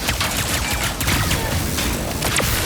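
Rapid-fire pistol bursts from a weapon in Ratchet & Clank: Rift Apart, a dense stream of loud shots over a busy game backdrop with mechanical clatter, no talking.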